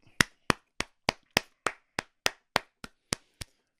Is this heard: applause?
yes